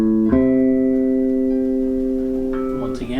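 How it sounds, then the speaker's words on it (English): Dominant 7 chord on bass guitar, played as root, third and flat seventh, rings out as one clear sustained struck chord that slowly fades over a few seconds before a brief noise at the end. "So a dominant 7 sounds like this."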